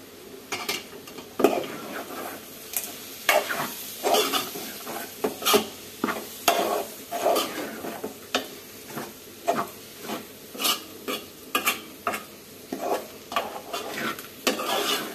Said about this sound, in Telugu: మంచిగా ఫ్రై అయింది కూర